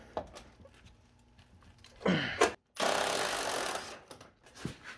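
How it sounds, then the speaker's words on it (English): A ratchet works bolts loose on a Ford F-450 truck in two bursts of rapid, rasping clicks, one short and one longer, separated by a brief silence, with faint knocks and handling noise around them. "See if we can get a ratchet in on this."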